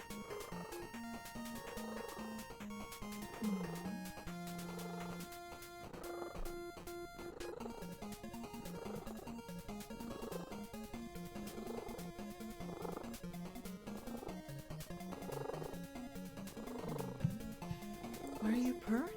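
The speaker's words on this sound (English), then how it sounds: "Why are you purring so loud?" A cat purrs loudly and continuously close by, with a steady rumbling texture under Rockman 3 game music and talk from a person nearby.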